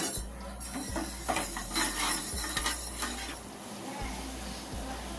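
Sugar and water stirred in a pot on a gas stove, a utensil scraping and clinking against the metal in a steady rhythm over a low burner hum, close by.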